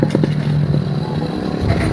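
A motorcycle engine revs close by in short repeated bursts over a steady low idle rumble, with some clatter, for about two seconds.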